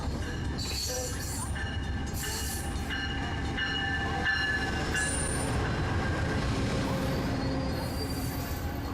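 A VIA Rail passenger train from Sarnia heading toward Toronto runs steadily, with rumbling wheels on rails and repeated high metallic squeals from the wheels, heard close and continuous.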